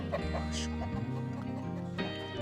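Chickens in a backyard coop, mostly Kabir breeds, give short clucks close by over a steady low hum, with a few scattered sharper calls.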